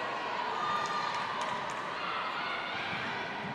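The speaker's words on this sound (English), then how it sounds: "Crowd not keen on that decision." An indoor netball crowd at a Gibraltar versus Ireland match reacts to an umpire's decision with a sustained murmur and scattered shouts, and ball bounces sound in the hall.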